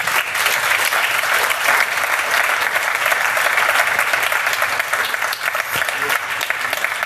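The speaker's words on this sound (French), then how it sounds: "Sous vos applaudissements" Lively crowd applause at a startup pitch event welcomes a presenter, a dense continuous clapping that holds steady for several seconds with a slight dip near the end.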